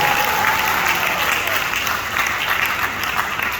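An audience at an address to Mandela Fellows breaks into steady, sustained applause, a dense wash of clapping that carries evenly from start to finish with a faint murmur of crowd underneath.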